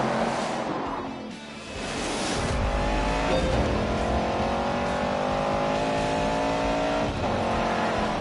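A race car in a PS4 video game revs hard, its engine note climbing and holding in a loud, steady whine with rising harmonic sweeps and a brief dip early on.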